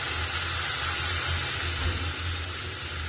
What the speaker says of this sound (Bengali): মশলা দিয়ে তেল ছেড়ে দিয়েছে, জল দিয়ে দেবো।